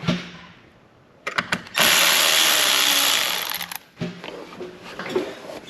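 Ratcheting and whirring of a tool loosening 7mm air pipe clamps on a 2017-or-later Ford 3.5L Ecoboost engine, with a few clicks before a loud sustained buzz of over a second, then more clicking and rattling nearby.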